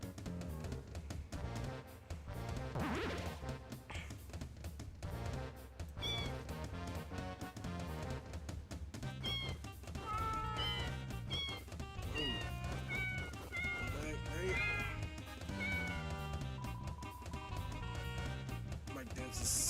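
Repeated cat meows and yowls sound from Mike the cat in the video game Deltarune, rising over busy game audio with a voice talking along.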